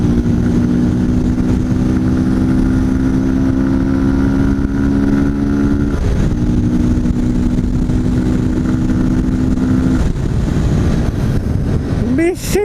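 Close motorcycle engine with the intake hose taken off idles loudly, a steady drone with a brief dip in the middle and a quick rev at the end, with wind noise and someone talking.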